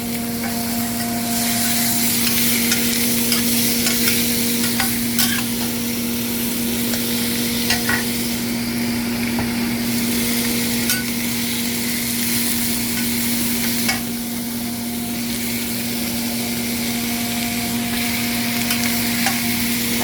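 Chicken pieces sizzle in a pan with garlic, ginger and onion, a continuous frying hiss broken by the scrape and clink of stirring at regular intervals, alongside a steady mechanical hum.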